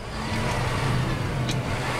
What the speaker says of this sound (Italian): Sentitelo come sale di giri con prepotenza